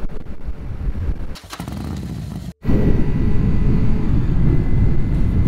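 Motorcycle ridden along a mountain road between Sapan and Nan in Thailand, its engine a steady loud rumble with wind noise, briefly dipping and cutting out for a moment before resuming at full strength, no talking.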